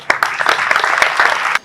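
Event audience breaks into brief, crisp applause with distinct close claps in a quick burst that stops abruptly.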